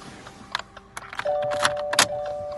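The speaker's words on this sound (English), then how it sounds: "switch ignition on with a blade with no transponder" A metal key blade with no transponder clicks and turns in the ignition of a 2019 Subaru Impreza, followed by a steady electronic chime tone and a few sharp clicks close by.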